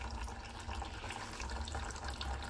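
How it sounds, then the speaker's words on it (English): A small trickle of water runs steadily from a goldfish pond down into a Dutch bucket aquaponic system, making a continuous, close, gentle flowing and splashing sound with no talk over it. "this little trickle of water from the goldfish pond, steadily flowing down in here"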